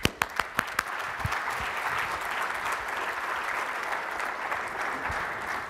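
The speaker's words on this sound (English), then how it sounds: "Let's give them a round of applause." A few sharp individual claps start off, then a full audience round of applause at a press conference at a mobile technology trade show settles into steady, moderately loud clapping.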